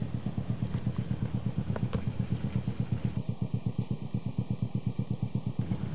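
A 2014 Honda BeAT 110 scooter idles with engine and exhaust running, a steady even putter of rapid regular pulses held at constant volume throughout.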